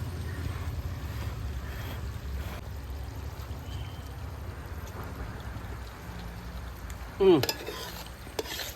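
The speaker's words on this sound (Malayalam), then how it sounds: "ഇങ്ങനെ ഇളക്കി കൊടുക്കാം." Homemade chicken curry is stirred in a bronze uruli pot, a steady soft scraping and bubbling close by, with a brief sharper clink near the end.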